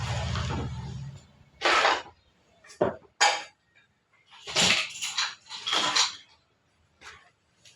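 A pot of mustard hilsa curry being set down and covered, a few separate metallic clanks and knocks of pot and lid, spaced apart with quiet gaps between them.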